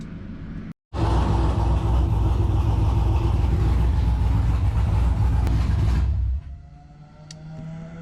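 A Whipple-supercharged G-body V8 runs hard on a dyno, a loud sustained roar for several seconds after a brief cut, then dropping back to a lower idle-like drone.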